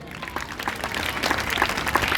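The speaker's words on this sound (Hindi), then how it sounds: "अध्यापकों के लिए भी आप जोरदार तालियां बजाओ एक बार" Crowd clapping at a public event builds and holds strong, a dense rattle of many hands applauding together.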